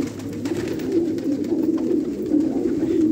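Quetta pigeons, fighters and young birds, coo in low rolling calls, several birds overlapping continuously and close by.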